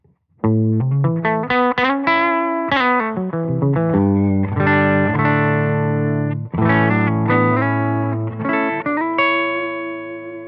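Electric guitar plays a loud riff through an Idiotbox Effects Deathray Frequency Mangler pedal, harsh and buzzy, sounding synthetic and square-edged, with sustained notes and a short pause midway.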